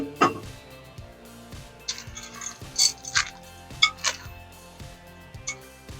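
Chocolate chips stirred into thick red velvet cookie dough in a bowl, with a steady run of light clinks and scrapes as the spoon works through, close and fairly quiet, no voices.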